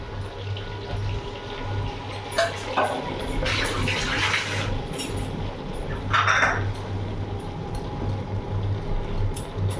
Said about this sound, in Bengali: সামান্য এটা ধুয়ে আমি জলটা দিয়ে দেবো।